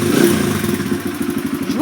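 A motorcycle engine idles close by, a throbbing, steady low putter with a slight rise in pitch at the end.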